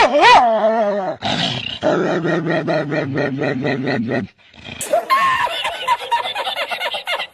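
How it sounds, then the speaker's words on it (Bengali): A neighbourhood street dog growls and barks in close, loud bursts, with snarling stretches, a brief pause and another rough, agitated outburst. "আমাদের পাড়ার কুকুরও ভাই কম জানা যখনই আমাকে দেখে তখনও ও ঝগড়া করতে চলে আসে"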